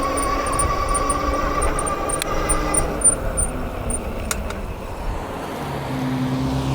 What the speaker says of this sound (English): And there's a car behind me.